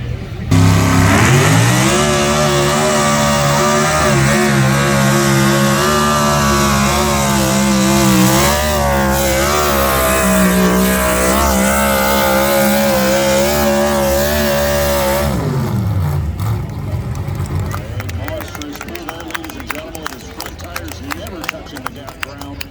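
A mini-mod tractor at a tractor pull competition roars at full throttle for about fifteen seconds, a loud, wavering engine note with its wheels spinning, then drops off abruptly to a lower idle and rattle.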